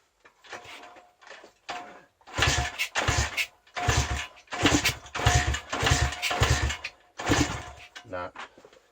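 A pit bike engine sputters and revs in uneven bursts as it is tried off choke, catching briefly several times with gaps between, loud and close.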